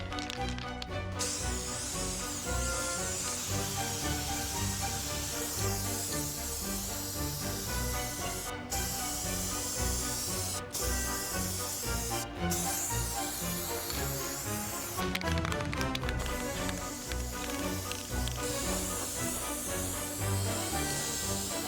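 A spray paint can hisses in a long, continuous spray close up for many seconds, broken by a few brief pauses, with no voices.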